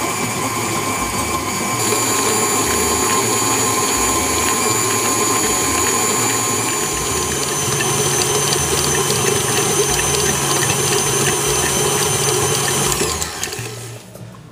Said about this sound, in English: I'm going to beat it on medium speed until the butter is nice and fluffy